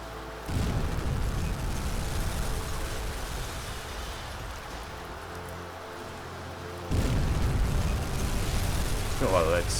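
In the submarine video game UBOAT, torpedoes strike a ship with deep, loud rumbling explosions. One blast comes at the start and a second hits near seven seconds, each followed by a sustained roar.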